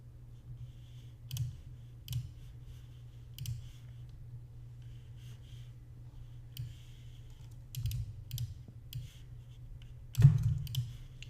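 A computer keyboard and mouse give scattered, sharp clicks and short bursts of taps at a desk, faint and close, with a louder cluster of clicks near the end over a quiet, low background hum.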